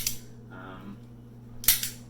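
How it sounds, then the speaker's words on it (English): A toy cap gun fired with no caps loaded gives a sharp, dry metallic snap near the end, preceded by a faint click and a brief mechanical rasp, close and fairly quiet. "I don't have any of the cap gun rounds in it, so it just kind of snaps,"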